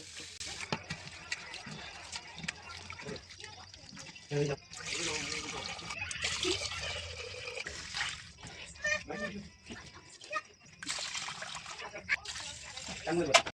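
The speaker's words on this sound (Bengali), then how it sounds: "এই চাল ডালটা না আমি ভালো করে ধুয়ে নেব অনেক ডাস্ট থাকে চার পাঁচবার ভালো করে আমি এটাকে ধুয়ে নেব" Rice and lentils are washed in water, with splashing, trickling and swishing coming in bursts at close range between pauses, while a person talks throughout.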